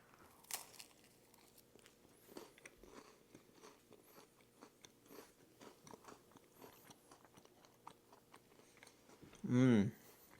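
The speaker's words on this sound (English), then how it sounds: "This is the Lunchables cracker stacker going in." Lunchables cracker stacker with meat and cheese being bitten and chewed up close, giving faint, scattered crunches over quiet room tone, followed by a short louder vocal sound near the end.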